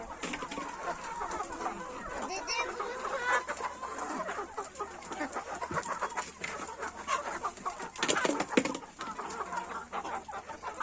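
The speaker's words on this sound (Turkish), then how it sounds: "Buraya da damızda attığımız tavukla horozumuz burada." Hens clucking continuously with a rooster's calls mixed in, a busy farmyard chorus of overlapping clucks and squawks at close range from breeding hens and a rooster.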